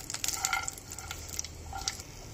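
Peanuts and cumin roast in a pan over a very low gas flame, giving a soft steady sizzle with light scraping and stirring clicks, fairly faint and without talk.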